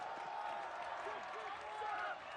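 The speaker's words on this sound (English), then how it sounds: "Gets a round of applause for that" Crowd applause at a school rugby match between Weston College and Trevorton: steady, distant clapping from the spectators, fairly faint, with a commentator speaking over it.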